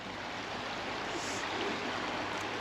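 River Towy at Nantgaredig flowing steadily, a constant broadband rush of water that stays even and unbroken from start to finish, with no voices over it.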